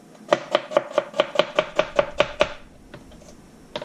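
A kitchen knife chops tomatoes on a cutting board in a fast, even run of about eleven crisp close knocks, then a couple of slower, scattered taps after a short pause.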